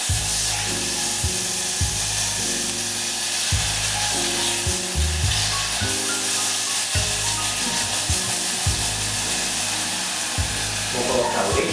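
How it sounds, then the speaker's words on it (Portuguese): Butter sizzles in an already hot pan for brigadeiro, a steady bright frying hiss running throughout, close and continuous, with low hum and occasional stirring or clatter underneath. "A panela já estava quente, por isso tem esse barulhinho."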